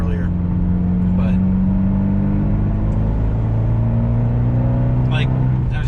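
A tuned Fiat 124 Spider Abarth pulls in 4th gear on mid-range torque, its engine a steady droning hum that climbs slowly in pitch, with someone talking over it.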